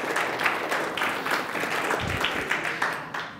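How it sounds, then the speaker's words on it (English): Church congregation giving a round of applause, a dense steady patter of many hands clapping at moderate distance, brief and even, fading slightly at the end. "So give Jesus a hand clap of praise"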